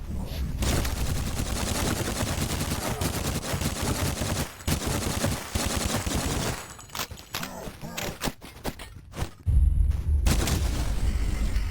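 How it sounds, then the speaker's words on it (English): Retro video game gunfire mixes booming shotgun blasts, sharp pistol cracks and rapid machine-gun bursts in dense, loud volleys with brief gaps between them. "The boom of a shotgun. The crack of a pistol. The pitter-patter of a machine gun."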